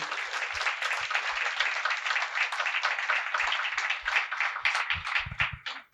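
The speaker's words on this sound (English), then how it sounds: "one big round of applause to all the Shishu Vihar children who" Children who have just danced at a Chinmaya Prakash anniversary satsang get a big round of applause, a dense, even wash of clapping from a hall crowd that holds steady, then fades at the end.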